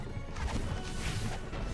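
Objects are smashed apart in the video game LEGO Harry Potter, a dense run of crashing, clattering breaks that goes on the whole time, loud and close, with no one talking over it.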